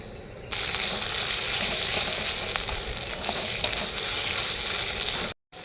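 Spices with chili paste, turmeric, cumin and coriander powder sizzle steadily in a hot pan for chicken kosha, cooked outdoors by a pond bank; a loud, continuous frying hiss with faint stirring scrapes and no talk.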